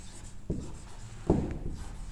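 Chalk or a marker strokes on a classroom board during a Hindi science lesson on the cell wall, two short scratchy bursts, near and fairly quiet, with room noise between.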